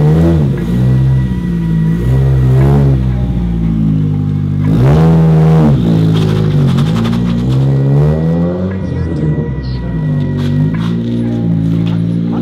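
A car engine revs loudly and close, pitch rising and falling as it accelerates and shifts, a continuous throaty drone throughout.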